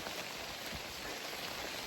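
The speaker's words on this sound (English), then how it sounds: "The rain is kind of refreshing in a weird way" Rain falling on Isle Royale, a steady dense hiss of drops striking nearby surfaces, even and unbroken at moderate volume with no voices.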